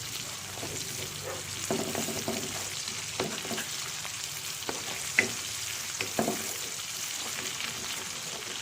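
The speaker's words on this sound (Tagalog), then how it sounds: "Tinry na po natin ang ating chicken na minarinate sa kalamansi at patis" Chicken marinated in calamansi and fish sauce fries in butter, giving a steady close sizzle and crackle broken by occasional scraping stirs and louder spatters.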